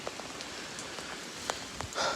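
A lake effect rain band over Oswego under calm wind, heard as a soft, steady patter of raindrops on surfaces with scattered sharper drips and a slight swell near the end.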